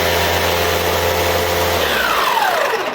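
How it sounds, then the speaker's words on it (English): A cordless electric snow shovel runs with a steady, high motor whine close to the mic, then winds down as it shuts off near the end; no voices. "There is your cordless electric snow shovel."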